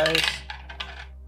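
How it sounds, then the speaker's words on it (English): Dice clatter onto a tabletop during a Necromunda wargame, a bright rattling burst that settles into a few lighter bounces and taps, close and alone with no talk. "And roll a wound dice."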